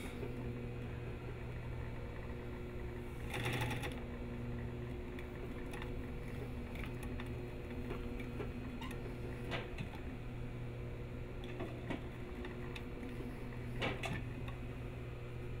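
A sewing machine stitches a fly front zipper on a pair of trousers, a steady, fairly quiet motor hum running throughout with a few soft clicks and knocks, no talking.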